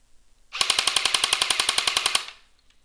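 An airsoft gun fires a rapid burst of about a dozen-plus rounds at roughly 13 per second, sharp evenly spaced cracks lasting nearly two seconds, loud and close with no talking.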